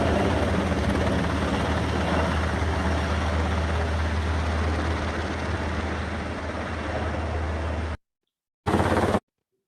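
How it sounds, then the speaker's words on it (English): Rescue helicopter flying out, its rotor and turbine roaring loud and close in a steady drone for about eight seconds, then cutting off abruptly before one brief burst returns. "Because the helicopter starts flying out"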